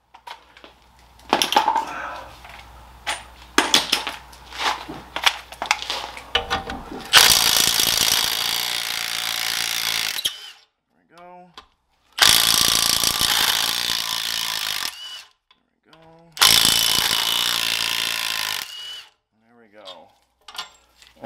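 A power tool whirs in three long, loud bursts removing E-Torx hub bolts from a 2003–2011 Saab 9-3 front wheel hub, interleaved with metallic clinks and rattling of parts between runs, close up.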